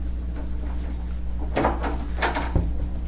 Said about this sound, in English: Does anybody mind if I close the door but don't lock it?